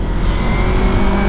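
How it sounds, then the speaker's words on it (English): Yamaha R3 motorcycle with an Akrapovic exhaust, its engine droning steadily and loudly under riding wind noise, a dense constant buzz with no clear rise or drop over the short stretch. "the revs coming from the engine"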